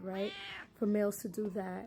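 A pet cat meows in short, bright calls, the clearest near the start, mixed in with someone talking at home.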